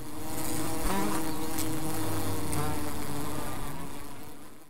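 Bees buzzing steadily and close, a dense, continuous drone of many insects with shifting pitches, no talk over it.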